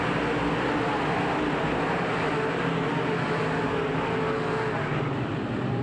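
Sprint race cars roar around a dirt oval track in a continuous, loud, dense engine drone that holds steady throughout, with no speech heard over it.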